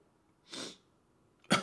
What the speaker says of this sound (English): Sorry for sniffing and coughing. I got like a very, very minor cold.